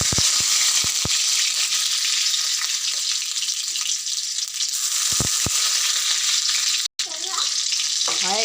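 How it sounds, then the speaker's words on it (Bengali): Garlic cloves dropped into hot oil burst into a loud, dense sizzle with a few knocks of the pan early on and mid-way, then a brief cutoff followed by continued frying with faint voice-like sounds. "তেলটা গরম হয়ে গেছে, দিয়ে দেবো রসুনগুলো"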